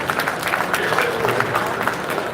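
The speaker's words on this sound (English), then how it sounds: "A nice round of applause for the Vice Mayor." A crowd claps steadily at close range for a vice mayor at a Little Saigon 50th anniversary event, a dense burst of applause that carries through the whole moment.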